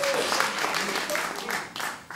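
An audience at a live variety show claps steadily in a dense, moderately loud patter for about two seconds. Faint voices come through underneath.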